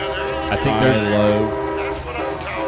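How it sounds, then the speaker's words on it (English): Loud, sustained multi-tone train horns on big-rig trucks blare nearby at a speedway, chord-like and steady, with a rumbling background and some voices mixed in. "the train horns coming through here on these big rigs"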